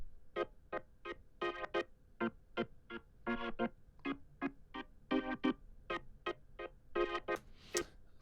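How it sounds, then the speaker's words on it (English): A Kontakt organ plays short, staccato chord stabs in a steady, rhythmic pattern for a disco mix, each hit clipped and bright, heard alone with no voices. "so I added this organ which is by the Contact organ."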